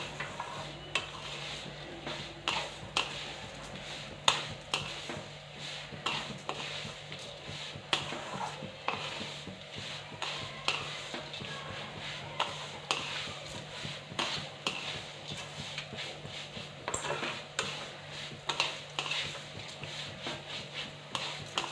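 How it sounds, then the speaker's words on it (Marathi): Vermicelli roasted in a pan over a low flame while it is stirred steadily, giving continuous close scraping and rubbing strokes over a soft, dry sizzle, with no voices. "एकसारखे हलवायच्या आणि शेवया ह्या भाजून घ्यायच्या."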